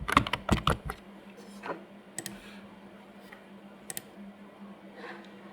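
Keys clatter on a computer keyboard in a quick burst of close clicks, then a few scattered taps trail off against a quiet, faintly humming room.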